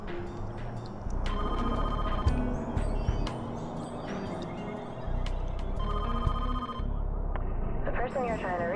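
A telephone rings in the intro of the video game Jurassic Park: Trespasser, with repeated electronic rings in bursts over several seconds, mixed with voices and game sound.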